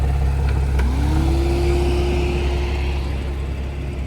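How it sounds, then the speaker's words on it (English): A Porsche 997 with a Motorsport intake idles steadily and close, a low continuous engine drone with a rising tone settling into a sustained hum, with no talking over it. "Engine runs absolutely flawless."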